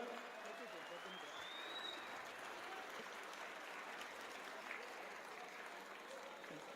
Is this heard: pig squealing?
no